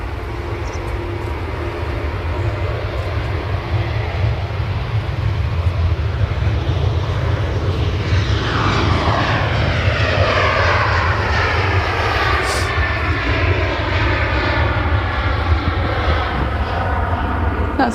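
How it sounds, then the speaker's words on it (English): A Jet2 Boeing 737 airliner departing Manchester Airport, a loud, sustained engine roar that builds and sweeps in pitch as the jet passes, with a faint voice underneath. "That's a Jet 2737 on the way to Antalya."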